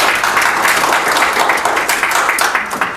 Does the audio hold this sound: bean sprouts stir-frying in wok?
no